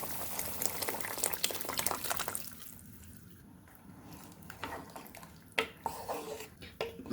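A pot of sambar with cooked dal simmers and bubbles softly, with faint gurgles and drips and a few sharper pops near the end.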